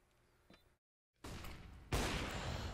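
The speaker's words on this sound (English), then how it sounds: "Iquinho firing off the initial shots." Counter-Strike gunshots in a competitive match, a faint single report followed by a brief silence, then two loud bursts of sustained gunfire that continue to the end, no talk.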